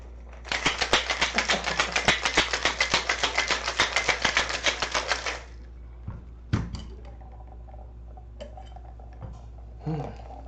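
Ice rattles hard and fast inside a cocktail shaker while a Mai Tai is mixed, a loud rhythmic clatter of about five seconds followed by a few scattered clinks and knocks of glassware.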